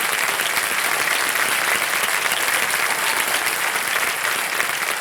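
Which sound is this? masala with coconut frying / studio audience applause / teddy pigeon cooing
studio audience applause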